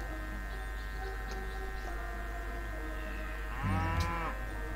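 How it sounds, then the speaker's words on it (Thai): A cow in Civilization V gives one drawn-out, loud moo near the end, rising over a steady droning game soundtrack with no speech. "โอ้เสียงวัว"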